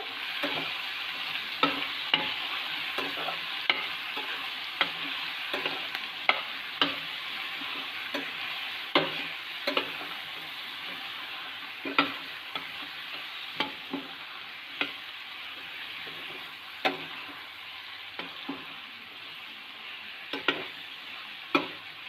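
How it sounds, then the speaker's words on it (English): Masala spices with red chilli powder and salt are stirred together in a hot pan for Karnataka vangi bath, a continuous soft sizzle with scattered irregular scraping taps from the spoon throughout, close and steady, with no voices. "So after adding all the masalas, we have to mix these things together."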